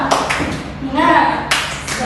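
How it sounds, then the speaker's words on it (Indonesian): A class of students claps hands in short bursts, sharp overlapping claps near the start and again toward the end, with voices speaking in between. "Coba semangat ya semuanya, tepuk semangat."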